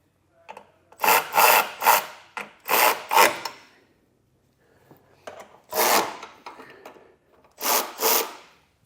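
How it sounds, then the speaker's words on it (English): A 15mm socket ratchet tightens running board bolts under a 2023 Jeep Grand Cherokee, giving several short, rasping bursts of clicking, close by, with pauses between each run. "come back with a 15mm socket and tighten those down"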